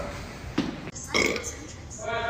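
A young man burps loudly indoors while others talk around him, the belch rising briefly over the chatter before speech resumes.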